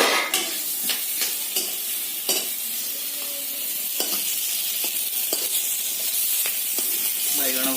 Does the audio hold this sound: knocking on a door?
no